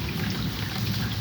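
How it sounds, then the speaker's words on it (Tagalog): Heavy rain pours steadily in Jeddah during a thunderstorm, a dense unbroken roar of falling water with a low rumble underneath, loud and constant throughout. "Umuulan po ng malakas dito sa Jeddah."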